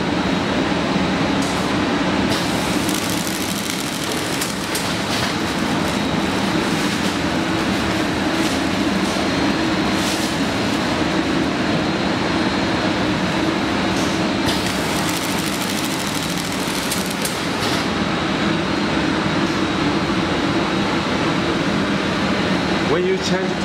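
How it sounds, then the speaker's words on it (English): An automatic side sealer packaging machine runs with a steady, dense mechanical hum and rattle that stays even throughout, with faint rhythmic clicks and a voice speaking over it at times. "Go into the auto page and you can start the machine and running automatically."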